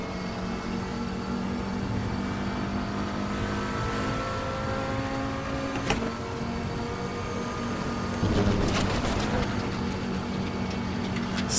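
A race car engine drones steadily at Road America in the RaceRoom game, holding a sustained high-revving tone with slight throttle variations and a brief burst of harsher noise near the end, under no talk.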